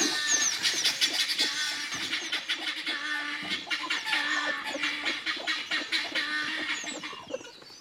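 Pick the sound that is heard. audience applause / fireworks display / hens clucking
hens clucking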